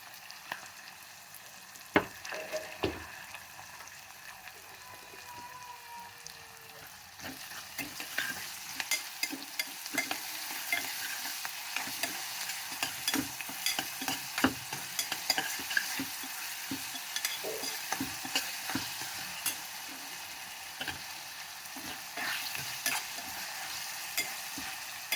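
Ginger garlic paste fries with onions in a pan for mutton with sorrel leaves, a continuous sizzle that grows louder after the opening seconds, with frequent spatula scrapes and clicks against the pan.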